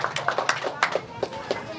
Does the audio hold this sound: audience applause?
yes